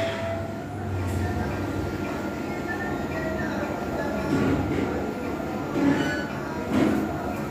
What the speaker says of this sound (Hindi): काफ़ी अच्छा मेट्रो बनाया हुआ है